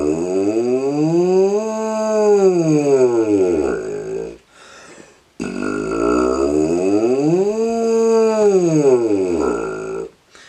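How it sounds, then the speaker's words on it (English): A tuba warm-up siren played twice in a row, each tone sliding low to high and back down in a broad arch, loud and close with a short breath gap between. "sirens are just where you start at a low or high note and you go all the way down and then all the way back up"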